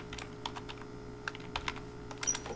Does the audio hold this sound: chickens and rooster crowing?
no